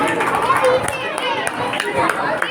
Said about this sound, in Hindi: उनके लिए जोरदार ताली बजाकर हम स्वागत करेंगे